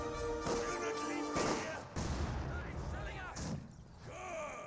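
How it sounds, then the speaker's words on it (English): Mortar shells striking a machine-gun position in Company of Heroes 2, a series of booming impacts and crashes amid game battle noise, with someone talking over them. "I got some mortar hits there on the MG"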